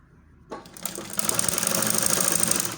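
A sewing machine sewing a dress sleeve starts after a brief quiet moment and keeps a fast, steady stitching rattle to the end, close and fairly loud.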